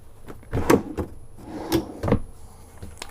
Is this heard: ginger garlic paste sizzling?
no